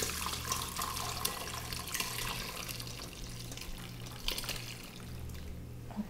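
Chicken stock being poured gently through a super fine strainer into a big bowl in a kitchen, a soft continuous watery trickle and splash, fairly quiet and steady throughout.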